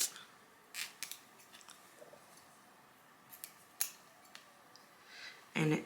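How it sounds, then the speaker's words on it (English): Scissors snip through a synthetic V-part wig in a few short, crisp cuts spaced across a quiet room, with a louder rustle of handling the hair at the end. "So now you have to cut right here"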